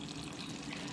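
Filtered water from a fridge pours steadily into a pot on the stove for a moment, a soft continuous trickle at low volume with no talking.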